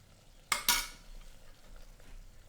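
A spatula scrapes down a bechamel-style sauce in a pan with two quick, close scrapes in rapid succession, followed by quiet room tone.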